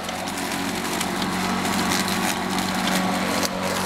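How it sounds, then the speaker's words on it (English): A new eco-friendly lawnmower runs with a steady, close, continuous engine-like drone and whirring blade noise throughout, with no talking. "We have got our planet saving lawnmower."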